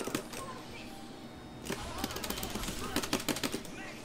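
In the fighting game Ultimate Marvel vs. Capcom 3, a special-move explosion bursts out. Sharp, crackling impacts come in rapid clusters, like gunfire, rising from a quieter start into a dense volley of hits.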